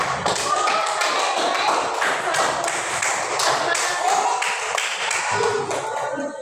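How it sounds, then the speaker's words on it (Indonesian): Classroom children clap together in a dense, steady burst of overlapping hand claps with some taps and thuds, fairly close and loud, while a voice speaks over it. "Tepuk tangan buat siapa ini?"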